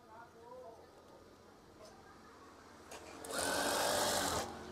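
An electric sewing machine runs a fast, steady burst of stitching through curtain fabric near the end, loud and close after a stretch of quieter handling noise.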